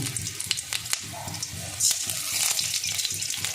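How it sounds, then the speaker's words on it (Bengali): Whole spices, cardamom, cinnamon and coriander seeds, frying in hot oil in a pan, a close crackling sizzle with rapid small pops and a few stir scrapes, continuous and unvoiced. "তেল গরম হয়ে গেছে, একে একে আমি মশলাগুলো দিয়ে ভেজে নেব"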